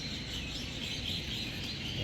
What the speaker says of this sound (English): See, listen to the birds.